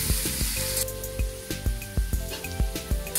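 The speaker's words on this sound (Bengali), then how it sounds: "এবার ভালো করে নেড়ে ফেড়ে আমি লো ফ্লেমে 5 মিনিট আমি আলুটাকে ভালো করে ভেজে নেব" Potatoes with turmeric frying in a pan on low flame for a vegetarian Bengali curry, a steady close sizzle punctuated by regular scrapes and taps of stirring.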